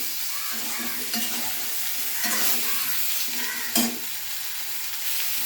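Eggplant and turmeric powder stirred in a pan, a steady light sizzle of frying with a few louder spatula scrapes and knocks against the pan, close and alone with no talk.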